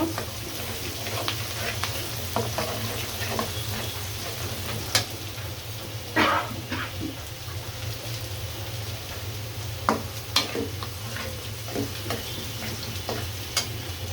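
Spice paste frying in a pan for a bitter gourd and hilsa dish, a steady close sizzle with sharp ticks and clatters of stirring as ground spices go in, a voice faintly underneath.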